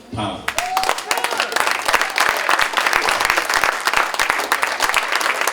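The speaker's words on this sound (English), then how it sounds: "let's get a resounding" A charity ball audience bursts into loud, dense applause filling a large hall, sustained clapping with crowd noise and some voices mixed in.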